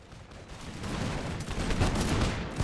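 Musket volley fire in a video game set during the American Revolution rolls out as a dense, crackling fusillade of overlapping shots, moderately loud and continuous for the whole moment.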